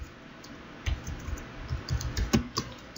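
Keystrokes on a computer keyboard while commands are entered on a Cisco router console, a scattered run of light clicks with a denser burst near the end, close and fairly quiet.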